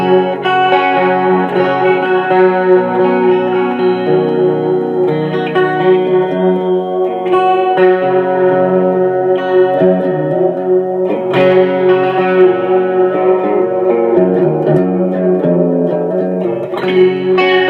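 An electric guitar plays through a Line 6 Spider IV amp on its clean channel with chorus and tap echo engaged: shimmering, sustained chords and notes ring continuously with repeating echoes, loud and with no talking.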